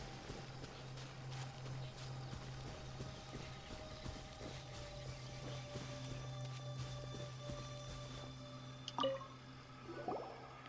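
Footsteps wade across a river in Genshin Impact, a run of soft squishing, splashing steps over a steady low ambient drone, with a couple of louder splashes near the end.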